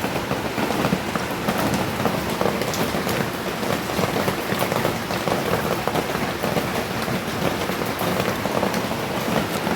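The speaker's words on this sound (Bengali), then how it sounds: "অনবরত বৃষ্টি হচ্ছে" Steady heavy rain pours down without pause, a dense constant hiss drumming on surfaces throughout.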